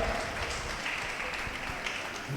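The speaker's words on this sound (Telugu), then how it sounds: "గట్టిగా చప్పట్లు కొట్టి" Congregation clapping at a church testimony meeting, a sustained, fairly faint patter of many hands filling the room, continuous and even with no voices on top.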